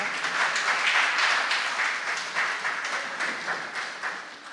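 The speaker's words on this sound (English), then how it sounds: "Let's give him a clap for" A church congregation at a Sunday service claps together, a fairly soft, steady patter of many hands that slowly tapers off.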